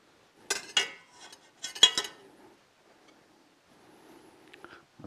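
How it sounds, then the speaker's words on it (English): Caramel custard mixture whisked in a pot, heard as a few sharp metallic clinks and scrapes of the whisk near the start, then quieter soft stirring and faint clatter, with no talk. "just make sure to whisk it a little bit, and then get a bigger pot where this all fits"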